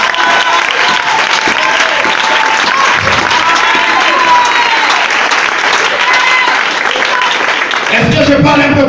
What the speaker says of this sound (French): Acclame le roi des rois